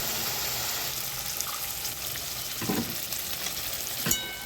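Spices being sautéed in a pan, including coriander-cumin powder, a soft steady sizzle with occasional stirring scrapes and a sharper clatter near the end; no voices.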